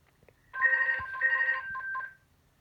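A telephone ringing unanswered, an electronic two-burst trilling ring with a short tail, close and clear against near silence, with no talking.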